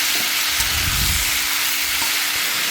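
Vegetables being sautéed in a pan for a fish-head chhechra, a loud continuous sizzle with stirring scrapes, close and steady with no talk.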